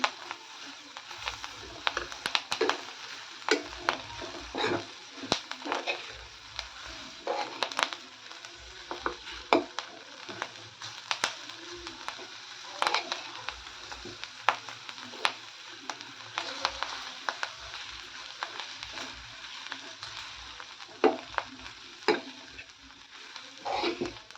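Chopped chive greens being stirred in a pan for a rustic Marathi bhaji, with long runs of irregular clicking spatula scrapes and taps over a faint sizzle, close and fairly quiet, with brief pauses between bursts and no talk.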